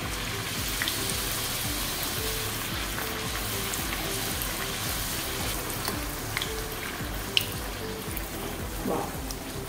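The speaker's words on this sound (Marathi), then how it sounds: "आता सावकाश पुरी सोडायची आणि गॅस अगदी मोठा नाही ठेवायचा, मीडियम ठेवायचा" Potato puri deep-frying in hot oil over a medium gas flame, a steady dense sizzle and bubbling that holds evenly throughout, with a few faint pops and clinks.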